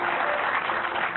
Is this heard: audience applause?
yes